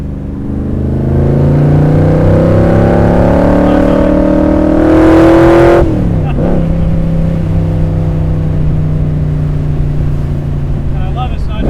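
A Superformance Shelby Cobra with a Roush 427 engine producing over 500 hp roars loudly as it climbs through the revs, then a sharp downshift blip drops it to a deep, steady burble.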